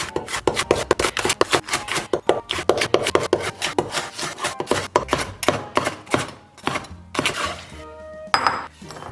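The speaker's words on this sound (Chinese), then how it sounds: "然后咱们把它们共同切成丝儿。" A knife cuts green chili peppers, including small long and spiral peppers, into strips on a cutting board, giving a rapid run of close, sharp chopping taps in bursts with brief pauses and a few scraping strokes.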